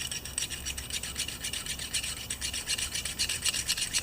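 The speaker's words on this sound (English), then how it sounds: "Drilling." A Honda brass carburetor jet for a 190cc pressure washer engine is drilled by hand from 0.65 to 0.7 millimeters, giving a steady, close scraping rasp in quick repeated strokes with no talk.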